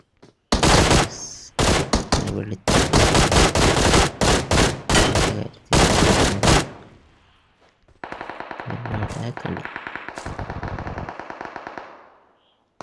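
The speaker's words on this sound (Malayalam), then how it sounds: "ആരോ വെടി വെക്കുന്നുണ്ടല്ലോ" Rapid bursts of automatic gunfire in a PUBG solo match, loud and close, in several volleys, followed by a steadier stretch of rattling fire.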